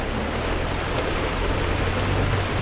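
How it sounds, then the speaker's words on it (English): Heavy rain pouring during Tropical Storm Faye on a Florida farm: a dense, loud, unbroken roar of rain on surfaces with a low rumble beneath, steady for the whole stretch and no voices. "It's pouring."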